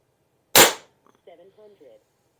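A single crisp crack from an Aselkon MX7s subcompact .25 caliber bullpup air rifle firing a JSB Hades pellet, close and loud with a short ringing tail, followed by faint mechanical clicks and brief soft talk.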